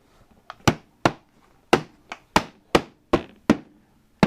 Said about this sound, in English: if you seal items in plastic buckets, is you want a rubber hammer